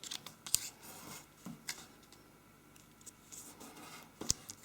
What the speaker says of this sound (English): First going to fold point to crease the diagonal.